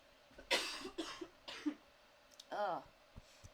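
Several quiet, raspy coughs come in a short series, followed by a brief vocal sound.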